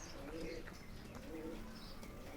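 Racing pigeons coo softly at a loft during a long-distance race, low repeated coos over steady outdoor background noise, with a few faint chirps.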